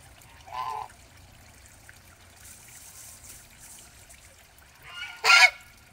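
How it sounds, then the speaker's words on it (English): Geese honk from outdoors near a group of ducks: one brief honk early, then a louder, sharper burst near the end over steady background water trickle. "And one female geese watching them."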